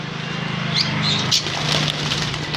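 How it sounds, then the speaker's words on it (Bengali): Yellow-sided conures in a shop flutter and give brief chirps over a steady low hum, with a few wingbeat bursts standing out nearby. "yellow side conure"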